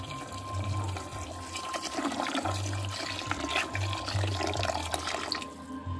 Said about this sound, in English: gonna be adding the water now.